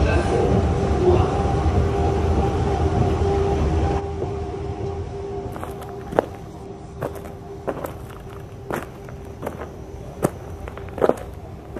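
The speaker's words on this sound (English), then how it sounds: "The train to Jebel Ali will depart from platform 1." A Dubai Metro train bound for Jebel Ali pulls away from a station platform: a loud, steady rumble with a droning hum fills the first few seconds, then cuts to quieter station ambience with scattered footsteps and clicks.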